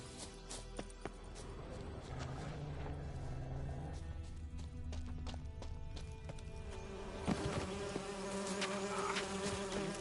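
Bees buzzing in a video game: a soft, steady insect hum runs throughout, mixed with scattered clops, thuds and other game ambience at low level.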